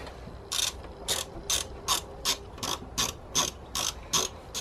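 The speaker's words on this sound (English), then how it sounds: "I'm gonna loosen off the bolt." Ratchet wrench loosening a 10 mm bolt on a car's VANOS solenoid: a dozen crisp, evenly spaced clicking bursts, close and clear, with no voices.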